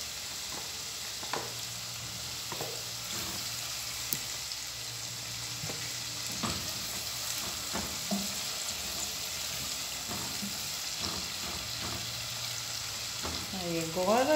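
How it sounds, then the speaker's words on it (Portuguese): Diced green and red bell peppers fry in a pan with a steady, close sizzle, broken by scattered clicks and scrapes of stirring and a few brief utensil knocks near the end. "Vou pôr um pimentãozinho cortadinho, que é um pedacinho de verde e um pedacinho de vermelho"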